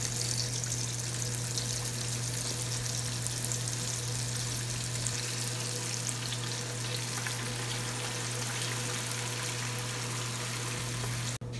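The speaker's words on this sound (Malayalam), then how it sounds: "അതുപോലെ ഇനി ബാക്കിയിരിക്കുന്ന കഷ്ണങ്ങളും കൂടെ വറുത്തെടുക്കാം." Chicken leg pieces deep-fry in hot oil for Kerala-style chicken fry, giving a steady, dense sizzle and bubbling that holds evenly close by, with no one talking.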